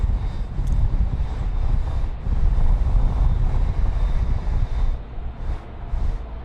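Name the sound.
Qantas Boeing 787-9 jet at Sydney Airport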